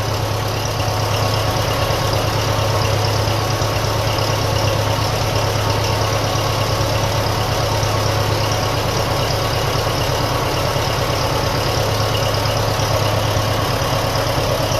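A 1957 Ferguson FE35 tractor running on TVO, its engine idling steadily and close by for the whole stretch, a constant low throbbing hum with no talk over it.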